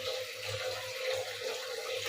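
Tap water runs steadily into a vessel being filled in a home kitchen, a soft continuous splashing stream, close and fairly quiet, with no speech.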